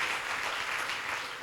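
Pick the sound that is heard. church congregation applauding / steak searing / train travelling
church congregation applauding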